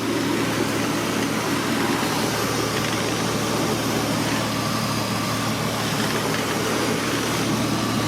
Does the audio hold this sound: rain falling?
no